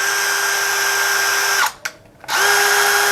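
An electric drill running in normal rotation mode for drilling or driving screws gives a loud, steady whine close by. It cuts out for about half a second and then spins back up to the same even pitch.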